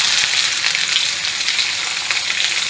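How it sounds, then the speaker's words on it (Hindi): Chopped onion hits hot tempering oil for a jackfruit-seed vegetable curry, producing a loud, continuous, close sizzle and crackle with faint stirring beneath. "तो अब मैं डालूँगी इसमें कटी हुई प्याज।"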